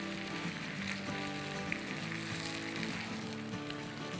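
Yogurt frying in a pan with cumin and salt for a green chicken curry, a steady close sizzle and crackle running continuously without talk.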